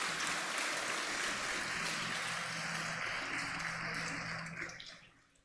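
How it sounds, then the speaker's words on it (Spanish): A church congregation applauding at a sermon, a dense, sustained wash of clapping from many hands that fades out over the final second. "Denle un aplauso a Dios"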